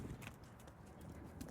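Hooves of a quarter horse being ridden, quick faint clip-clop beats in an uneven loping rhythm, distant and soft over background noise.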